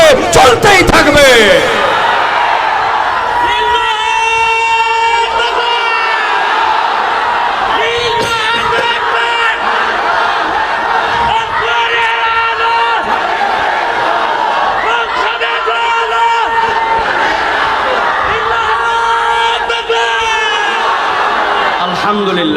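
A large crowd at a religious gathering chants the Allahu Akbar slogan in loud, rhythmic, repeated collective shouts, sustained and close, with an amplified voice leading the chant.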